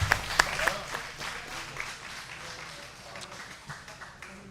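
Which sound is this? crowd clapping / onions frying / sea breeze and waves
crowd clapping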